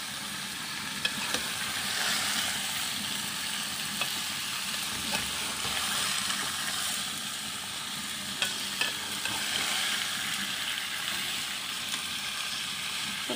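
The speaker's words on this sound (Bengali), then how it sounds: "ঠিক এই সময় এসে জালি কুমড়োগুলো এক এক করে দিয়ে দিব। দিয়ে নিয়েছি, ভালো করে নেড়ে চেড়ে নেব।" Ash gourd pieces stir-fried with shrimp in a pan make a steady, moderate sizzle throughout, broken by occasional scrapes and soft clicks of a spoon turning the pieces, with no talking.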